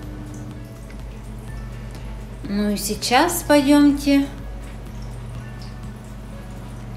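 Water drips and trickles from a small handmade indoor waterfall among houseplants, a brief cluster of splashy drops under a woman's speech.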